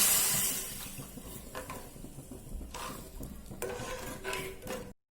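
Chicken stock splashes steadily into a pot, with occasional clinks of metal cookware, close up and with no talking.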